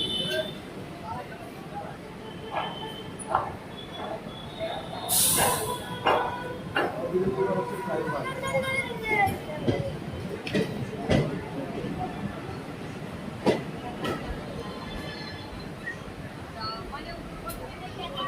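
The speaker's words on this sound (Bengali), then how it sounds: "আমাদের ডিএমইউ ট্রেনটি ধীরে ধীরে কার্ভের দিকে যাচ্ছে" The Siliguri–Haldibari DEMU passenger train rolls slowly around a curve toward New Jalpaiguri, its steady rumble and wheel clatter carrying throughout, with a brief hiss and people talking on board.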